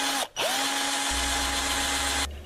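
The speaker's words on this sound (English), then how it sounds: "I just wanted to show you how I'm going to drill in the center." Power drill boring a hole through the center of a wooden desk drawer, a steady high whine that dips briefly at the start, then runs evenly before stopping, close and loud with no talk.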